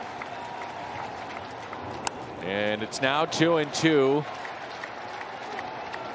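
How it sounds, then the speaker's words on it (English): A ballpark crowd at a Brewers vs Cardinals baseball game gives a steady wash of cheering and applause, kept in the background beneath a commentator talking over it. "let's hear the crowd. Crowd is into it."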